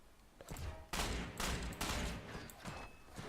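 Gunfire bursts in the online shooter Ghost Recon Online, several loud broadband volleys in quick succession over about three seconds, close and dense like a fusillade.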